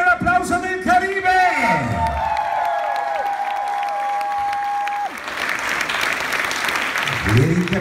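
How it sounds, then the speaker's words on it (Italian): Applause and cheering from a dance audience at an Eddie Torres salsa event with Diego and Cristina, loud crowd clapping mixed with whoops and music at first, then a steadier ovation continuing to the end. "Voglio sentire l'applauso del Caribe!"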